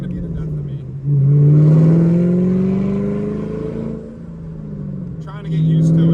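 A 2014 Shelby GT500 with a 5.8 engine and manual clutch accelerates hard from inside the car, a loud low exhaust roar rising in pitch, easing off, then building again near the end.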